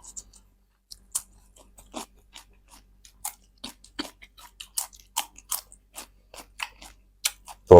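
Crisp, crunchy chewing of fried chicken offal, close to the mic, in irregular bites and crackles scattered over quiet gaps, ending with a louder thump.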